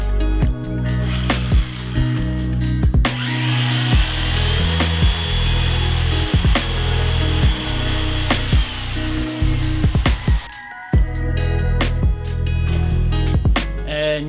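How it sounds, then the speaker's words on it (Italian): A chainsaw cuts a wooden log for a homemade strongman log. The engine drones loud and close, revving up and dropping in pitch as the chain bites into the wood, then briefly cutting out and restarting. "motosega alla mano partiamo innanzitutto con un bel taglio"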